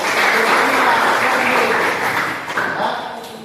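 Students in a classroom applaud, a dense burst of many hands clapping together that stays full and steady before tapering slightly, close and without talk over it.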